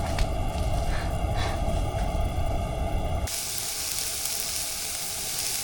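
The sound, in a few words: frying onions and peppers for a stir fry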